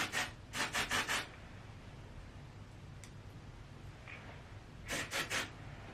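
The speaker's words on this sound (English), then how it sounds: "I go through and I rub it in so that it's evenly distributed" Dry shampoo being rubbed into hair by hand, soft brushy rubbing strokes in two short rhythmic bursts of about four each, separated by a quieter stretch with faint rustling, close up with no talking.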